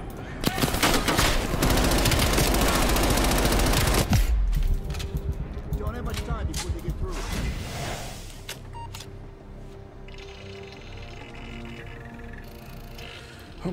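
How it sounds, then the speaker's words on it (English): Rapid hand cannon gunfire from the video game Call of Duty Black Ops Cold War, loud dense bursts of shots for about four seconds, then scattered game sounds and a voice talking. "Hand cannon."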